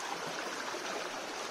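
A waterfall at a secret bathing spot in Hamren roars with a dense, steady, close rush of falling water.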